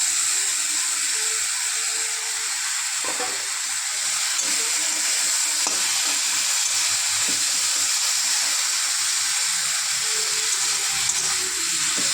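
Bitter gourd fries with onion-chili paste, turmeric and salt, giving a steady, moderate hiss and sizzle with faint scattered clinks of stirring throughout.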